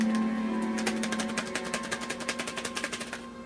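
Small objects rattle inside a box as it is shaken quickly back and forth, a fast run of light, dry clicks over a faint steady hum.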